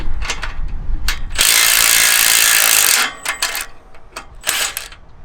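A ratchet takes a bolt off the yellow bracket of a MacDon FD2 header, giving a few quick clicking bursts, a sustained whirring stretch, then more short close clicks.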